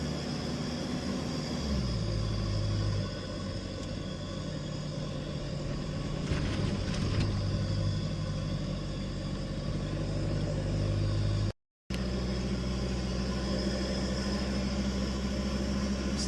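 Steady in-cabin rumble of a 4WD cruising an inland sandy track through pine forest between Brisbane and Bribie Island, with continuous low engine and road drone and a brief dropout near the end.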